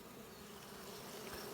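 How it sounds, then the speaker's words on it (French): A dense swarm of honeybees at a hive that has just been smoked with a beekeeper's smoker fills the air with a continuous, close, even buzzing drone. "Et déjà, on voit qu'il y a beaucoup d'abeilles."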